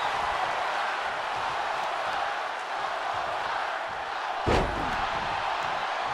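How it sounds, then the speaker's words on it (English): A wrestling arena crowd in WWE 2K24 roars in a steady wash of noise, with a single loud slam cutting through near the end. "Crowd just says one more time as they want it."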